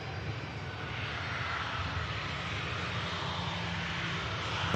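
A SunExpress airliner taxiing at Manchester Airport, a steady, fairly distant engine drone and rumble that holds evenly throughout with no talk over it.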